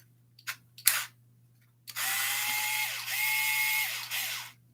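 A power drill works on a Traxxas Revo RC car, a few short clicks and taps followed by a sustained high whirring run of several seconds with slight shifts in pitch, close and alone.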